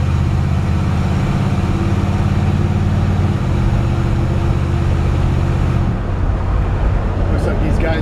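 A 1950 Chevy chop-top hot rod rumbles along the road, a loud, close, low engine drone with steady harmonics that shift pitch a couple of times as it drives.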